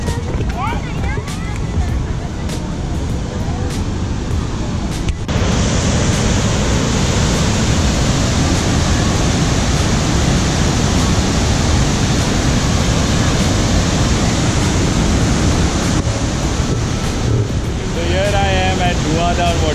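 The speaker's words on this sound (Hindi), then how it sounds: "I am almost there to this Dhuandhar waterfall" Dhuandhar waterfall in Jabalpur roars as a steady, dense broadband rush close by, continuous throughout, with a brief lighter stretch at the start.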